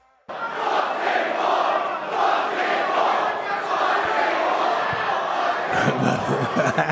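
A hostile crowd at a Jake Paul press conference roars and shouts continuously, a dense loud wall of jeering voices with some laughter, breaking in abruptly and holding steady throughout.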